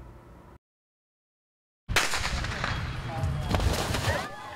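A starting gun fires for a black-mud obstacle race at a festival in Xizhou, Changhua: a sharp crack breaks a brief silence, followed by bustling crowd noise and voices.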